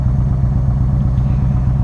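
A 2015 Yamaha V Star 1300 Deluxe idles close by with a steady, loud low pulsing throb as the clutch is eased out, the engine note holding even throughout.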